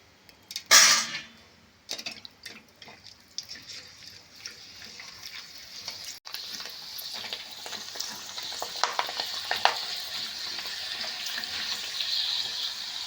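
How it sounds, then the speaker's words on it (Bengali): Rice flour papads drop into hot oil with a sharp initial splash and crackle, then a steady sizzling frying sound that grows gradually louder and fuller over the rest of the clip. "এইভাবে আমি সব পাঁপড়গুলো ভেজে নেব"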